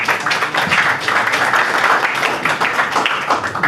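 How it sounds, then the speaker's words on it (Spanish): Audience applauding a speaker at the close of a lecture on policy foresight, steady dense clapping from many hands filling the room throughout, loud and continuous with no pauses. "Un aplauso otra vez"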